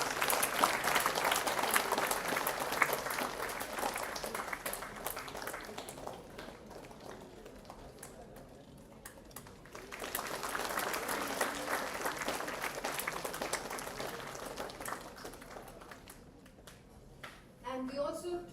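Audience applause at an international academic conference felicitation ceremony, two sustained waves of clapping from a crowd, the first fading around the middle and the second swelling back before a closing burst, with voices murmuring underneath.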